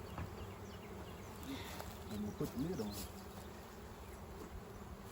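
Honey bees hum in a steady, soft drone while a nuc is installed into a hive, with a person speaking briefly over the buzzing.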